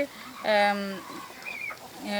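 Chickens at a poultry exhibition event give a couple of short, bright clucks, one at the start and another near the end, with a quieter call between.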